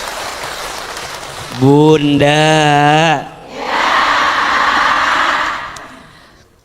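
A seated audience at an Islamic lecture gives a burst of applause lasting a few seconds for a mother who asked a question, following a short spoken phrase.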